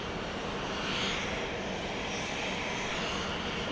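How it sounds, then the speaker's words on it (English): A Southwest Boeing 737-700 jet touches down at Dallas Love Field, its engines producing a loud, steady roar that swells slightly and then holds, with no talk. "This plane just touching down from Panama City, Florida."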